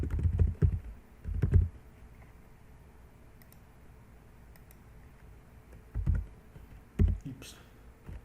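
Short bursts of typing on a computer keyboard, a few quick clusters of clicks separated by quiet pauses, close and soft.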